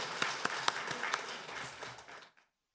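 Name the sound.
applause offered to God in church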